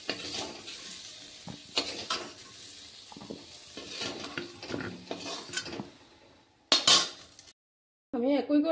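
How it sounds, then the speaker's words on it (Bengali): Fried potatoes are scooped out of a wok into a bowl, with repeated spatula scrapes, knocks and clinks against metal over a faint sizzle, ending in a short pause. "এবার আলুগুলি আমি একটা বাটিতে উঠিয়ে নিচ্ছি।"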